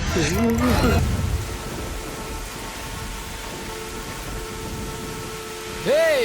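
Steady rain falls in the background as a soft, even hiss, with brief voices talking at the start and end.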